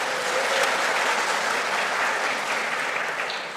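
Steady, dense applause from a church congregation during a Sunday service celebrating the men's fellowship, sustained evenly for a few seconds with no voices over it.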